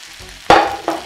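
Red and green bell pepper strips and spring onions hit a hot wok for chicken chow mein, a sudden loud sizzle burst followed by a second smaller crackle as more vegetables drop in, close and brief with no talking.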